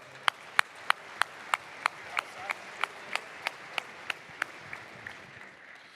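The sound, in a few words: audience applause and clapping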